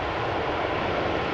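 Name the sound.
Iberia airliner arriving at Amsterdam Schiphol Airport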